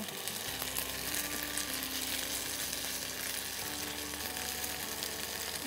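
Ginger paste frying in a pan for a Bengali shukto gives off a dense, continuous crackling sizzle that holds steady and fairly loud throughout, with a low hum underneath and no talking.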